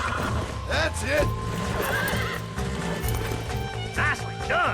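A horse in the video game Red Dead Redemption whinnies and neighs repeatedly amid hoof clip-clops and game sounds, with a voice talking over it.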